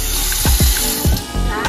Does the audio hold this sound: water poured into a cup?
yes